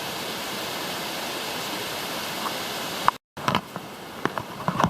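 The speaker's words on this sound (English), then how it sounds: "So we just saw the waterfall," Waimoku Falls on the Pipiwai Trail roars as a steady, broad rush of falling water, constant and fairly soft, briefly cut off before returning with a few small knocks and rustles nearby.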